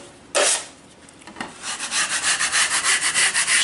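A steel knife scrapes across dried drywall joint compound after two coats, making a close, loud rasping stroke followed by a steady run of rapid, rhythmic scraping passes.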